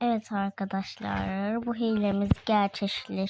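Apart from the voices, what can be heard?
No everyday noise stands out behind the speech.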